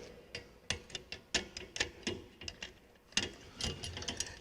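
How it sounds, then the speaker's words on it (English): A hand ratchet tightening bolts one at a time during assembly of a Bluerev TRIO electric trike, heard as a sharp, irregular series of clicks and pawl ratcheting bursts close up. "I'm going to mount each bolt one at a time as we go"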